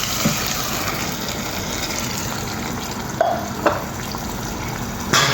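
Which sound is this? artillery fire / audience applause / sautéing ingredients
sautéing ingredients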